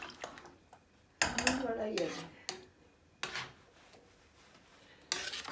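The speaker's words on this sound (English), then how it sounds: "So give it a nice mix." Rice for a mutton yukhni pilau is stirred in a pot, with a few bursts of scraping and clattering from the spoon against the pan separated by quiet pauses, close by.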